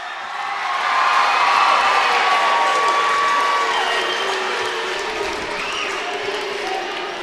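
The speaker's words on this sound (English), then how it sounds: "let you listen to the Webster fans as the game ends" Webster basketball fans at a tournament game cheer and applaud loudly as the game ends, a dense sustained crowd roar with whistles and shouts rising early, then holding steady.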